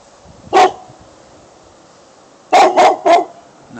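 A neighbor's dog barking loud and close: a single bark, a pause, then three quick barks in a row.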